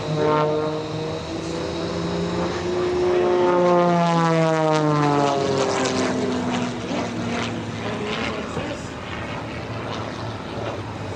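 An aerobatic propeller airplane roars past nearby at an airshow, its engine pitch sweeping up and down as it manoeuvres, loud and continuous with a fading drone.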